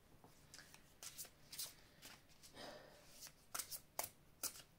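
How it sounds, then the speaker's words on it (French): Tarot cards drawn and handled on a table, a string of soft papery slides and snaps coming in irregular bursts, close and fairly quiet, with a long smoother shuffle partway through. "Alors, je vais vous prendre deux cartes ici."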